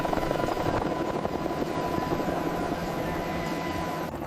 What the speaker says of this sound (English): This is a rescue helicopter.